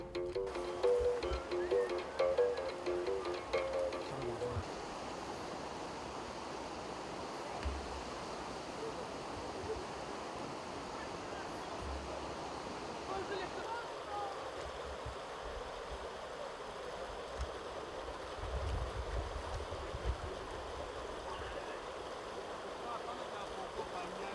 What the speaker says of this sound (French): Il nous faut traverser la rivière.